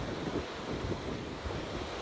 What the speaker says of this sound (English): the waves are so big and coming in on the coast up against houses